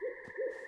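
An owl in the Citadel: Forged with Fire video game gives two soft hoots in quick succession over a steady ambient hum.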